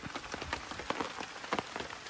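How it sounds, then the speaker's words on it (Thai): Rain pouring down in a forest of tabaek trees, a steady wash of drops falling on leaves and surfaces with scattered louder taps, moderately close and continuous with no voices. "ฝนเทลงมาแล้วนะครับ"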